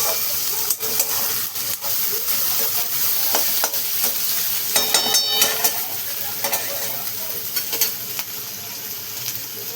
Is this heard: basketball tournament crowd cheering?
no